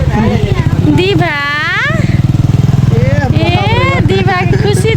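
Scooter engine running with a steady low rhythmic putter close by, heard under loud voices talking and singing.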